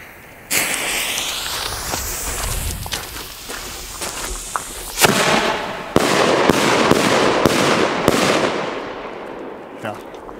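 A 50 mm Hyper Cannon 5 firework cake fires five sharp bangs, staggered in quick succession, with crackling hiss between the reports and a voice briefly underneath.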